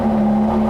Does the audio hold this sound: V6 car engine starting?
yes